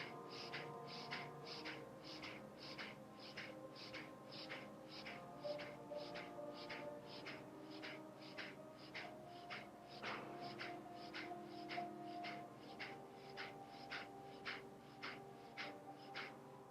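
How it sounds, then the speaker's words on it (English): Rapid, rhythmic pranayama breaths in an energizing yoga breathing exercise, with short forceful puffs repeating evenly about every half second throughout, close and soft. "Inhale deeply."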